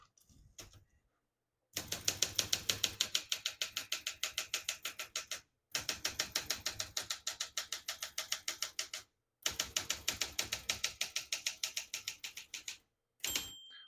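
Keys clatter in fast, even runs on a 1965 Olympia SM8 portable manual typewriter, three long bursts separated by brief pauses, recorded up close and alone, with a single bright ding of the margin bell near the end.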